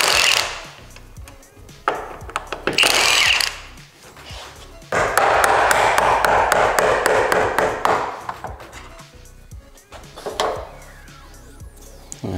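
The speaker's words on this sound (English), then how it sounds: "Now we can remove the hinge." Hand tools tap, clink and scrape on metal while a door hinge is removed from a Nissan Pathfinder, irregular close knocks and rattles with a sustained grinding stretch in the middle.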